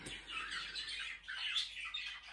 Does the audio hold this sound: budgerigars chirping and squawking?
yes